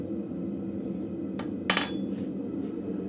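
In a blacksmith shop a metal bar is struck while pieces are cut off it, two sharp metallic hits close together followed by fainter ringing taps over a steady low shop hum.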